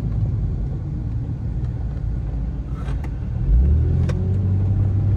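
A 2000 Porsche 911 Millennium Edition engine runs from inside the moving car, a steady low rumble that swells into a deeper, louder drone as the driver gets on the throttle, with no talk over it.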